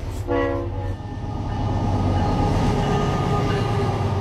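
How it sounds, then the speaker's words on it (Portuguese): An iron ore freight train pulled by five coupled diesel locomotives rumbles past, loud and close, opening with a brief horn blast and then a steady heavy roar of engines and rolling wagons. "O maior trem do mundo, puxado por 5 locomotivas a óleo diesel, engatadas, geminadas"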